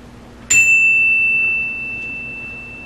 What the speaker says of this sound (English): I ain't got enough chimes for them at the moment.